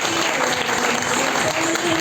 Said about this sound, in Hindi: बिलासी राम जी के लिए एक बार ताली हो जाए।